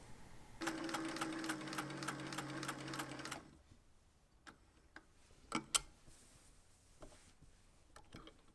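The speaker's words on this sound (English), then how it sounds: "Then I'm going to sew on this line." A sewing machine runs a rapid, even stitching burst along a vest seam for about three seconds, then stops, leaving faint handling clicks and taps.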